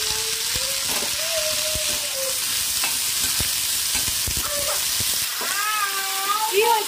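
Food fries in a home kitchen pan with a steady loud sizzle throughout, while a cat meows repeatedly nearby and a voice is heard briefly.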